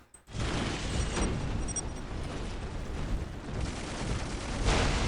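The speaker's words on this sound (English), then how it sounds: "I'm just kind of explosion spamming" Dense, continuous explosion spam from Dawn of War Soulstorm, an Ork team battle in 2v2 multiplayer: a loud, rumbling wall of overlapping blasts and bursts that runs the whole time without letting up, with no voices over it.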